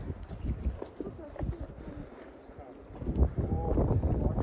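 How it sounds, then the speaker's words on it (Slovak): Gusty wind buffeting the microphone at Popradské pleso, a mountain lake in the Tatras, rumbling in uneven surges that ease off midway and then build again, with a voice speaking briefly under it. "Už začína dosť fúkať."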